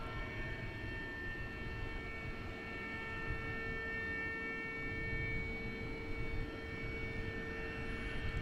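A steady, loud roar of a jet aircraft engine spooling up at DFW Airport at night, a continuous broadband rumble with a sustained high whine running throughout, no talking.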